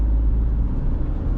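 A Citroen C3 Aircross automatic car hums at a steady low engine drone from inside the cabin, close and even, with no distinct shift change standing out in the brief moment.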